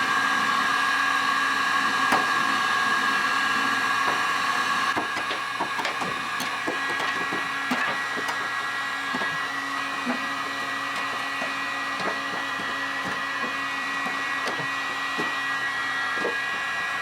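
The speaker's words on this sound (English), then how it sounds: "I think my heat gun doesn't suck very well anymore." A heat gun runs steadily with a constant whining motor drone and airflow hiss, joined by occasional faint knocks and clicks.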